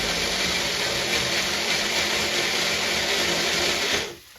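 A kitchen mixer grinder runs loud and steady for about four seconds, grinding ingredients for a German apple cake, then cuts off abruptly.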